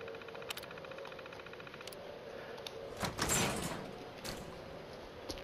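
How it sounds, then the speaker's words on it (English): A security door in the Fallout 4 video game slides open with a mechanical whoosh and rumble that swells midway and fades, set against a steady electronic hum and scattered clicks. "Unlock the security door."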